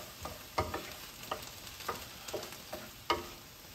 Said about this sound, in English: So we're just gonna saute these a little bit just so they become just a tad soft